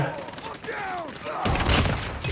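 Rapid gunfire bursts erupt in the second half during a 10 v 10 Shipment match in Call of Duty Mobile, loud and close, following a stretch where someone talks over game sounds.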